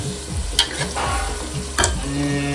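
Peanuts, whole spices and chili frying in a pan, a loud close sizzle with two sharp bursts as ingredients hit the hot oil or are stirred, then steady crackling.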